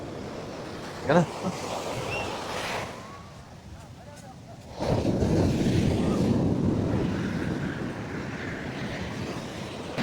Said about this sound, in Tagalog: Wow. Ang laki ng alon.